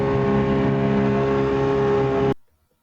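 A sailing boat motoring under engine power in light breeze, a steady loud droning engine hum running evenly before cutting off abruptly near the end.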